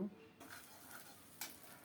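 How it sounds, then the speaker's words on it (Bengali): Grated coconut frying in oil with whole cumin seeds, a quiet steady sizzle with a couple of light stirring scrapes and a faint utensil clink, with no talking. "ওই তেলে গোটা জিরা ফোড়নে দিচ্ছি এরপরে কোরানো নারিকেল দিলাম"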